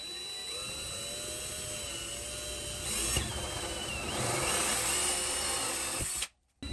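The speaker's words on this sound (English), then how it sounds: "So we're gonna go ahead and drill these holes" A power drill bores holes in the shower enclosure of an RV camper bathroom under renovation, giving a steady whirring drone with pitch shifts as the bit bites, ending in an abrupt stop.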